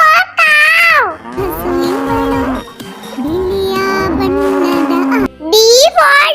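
A cow moos in a 3D children's phonics alphabet song, with bending, drawn-out lowing calls mixed among childlike sung voices and cartoon vocal sounds throughout.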